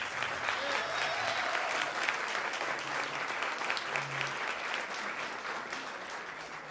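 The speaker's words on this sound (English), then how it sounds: "I want you to give your applause to Nick Lugo" Sustained audience applause for the founder and president at a women's luncheon, steady and fairly distant clapping filling the whole stretch.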